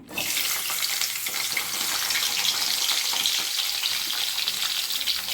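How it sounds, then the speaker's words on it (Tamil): Bitter gourd frying in sesame oil gives a steady, close, dense sizzle that holds evenly from start to finish, with faint stirring scrapes mixed in and no talking. "இது நல்ல எண்ணெயில் வதங்கட்டும்."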